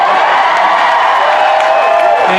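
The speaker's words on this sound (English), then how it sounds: "Thank you for applauding" A theater audience at a drag show cheers and applauds loudly, a roaring mix of clapping, whoops and crowd noise that stays dense and close throughout.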